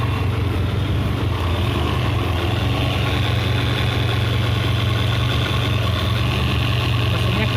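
Steady engine idle of a 1996 Suzuki Feroza SE, a continuous low rumble with an even, unbroken drone and no voices.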